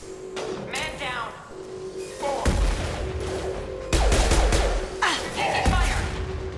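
Video game gunfire crackles in repeated sharp bursts and bangs during a squad firefight, with voices calling out over the shots.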